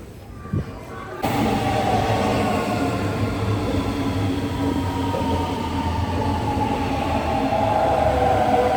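A train rumbles loudly nearby with steady low droning and a rising mechanical whine, starting abruptly after a brief quiet moment.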